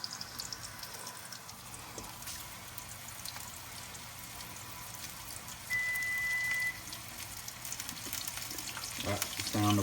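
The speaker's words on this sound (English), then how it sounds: "That's the sound of our biscuits getting close to being ready over there." Homemade biscuits fry in a pan with a steady, broadband sizzle and crackle that runs nearly ten seconds, moderately loud and close, with occasional light clinks and a brief tonal beep partway through.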